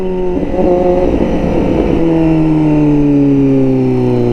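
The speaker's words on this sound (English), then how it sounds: "Started picking the tire up in first gear, even with me leaned over on it." A 2021 Honda CBR1000RR-R Fireblade SP with an ECU flash accelerating hard in first gear, loud and close, its engine note climbing as it pulls, then settling into a steady high drone.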